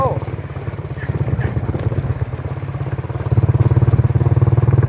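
A motorcycle engine running on a ride out to a farm pond, a rhythmic low pulsing throb that grows louder toward the end, with people talking over it.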